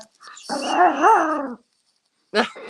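A small dog lets out a drawn-out growling, whining bark lasting about a second, then a short pause and one more sharp bark, close and loud in a quiet room.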